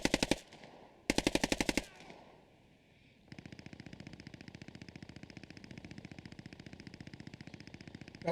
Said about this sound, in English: Vinicius is absolutely deadly with the SMG